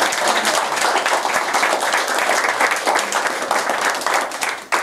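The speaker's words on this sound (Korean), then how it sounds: "박수 부탁드립니다. 여러분." Sustained audience applause fills a hall during a presidential-election lecture, dense steady clapping throughout at close range with no talk over it, fading sharply at the very end.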